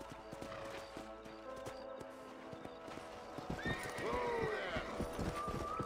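A horse whinnies loudly up close in Red Dead Redemption, its hooves clip-clopping in a steady rhythm throughout, with the neighing rising in the second half.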